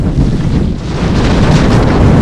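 Strong desert wind in the Mauritanian Sahara, carrying sand during a bikepacking trip, batters the microphone in a loud, dense, unbroken rumbling roar that swells slightly toward the end.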